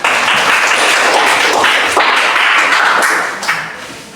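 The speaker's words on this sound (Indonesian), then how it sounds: "Tepuk tangan." Loud, dense applause from an audience after a group presentation at a Catholic religious education teacher training session, steady clapping of many hands that begins to fade near the end.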